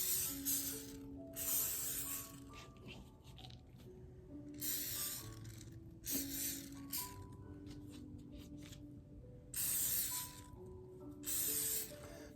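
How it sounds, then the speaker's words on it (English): Olive oil is sprayed onto a low-carb pizza crust in several short, airy hissing bursts separated by quiet gaps. Faint background music plays underneath. "I'm going to spray a little bit of olive oil on there"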